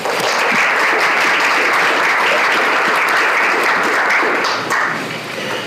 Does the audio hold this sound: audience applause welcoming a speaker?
yes